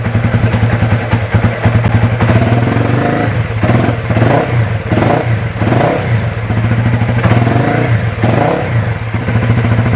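A Honda Wave motorcycle fitted with a CBR300 engine starts and revs repeatedly. It is loud and close, with throttle blips rising and falling over a steady engine drone.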